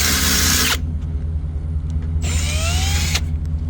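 Power drill boring a hole in a metal plate on a box van conversion, two bursts of loud whining drilling separated by a pause, over a low steady background rumble.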